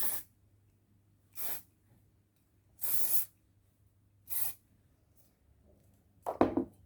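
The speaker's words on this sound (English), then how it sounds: "I have some hairspray. It's extra firm." Extra firm hairspray sprayed onto curled hair in five separate short bursts of aerosol hiss, evenly spaced and close to the mic, the last one a bit louder and rougher, with quiet pauses between them.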